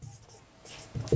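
Pen scratching across paper while a plot-area calculation is written out; brief, faint strokes that grow a little louder toward the end, with no talking.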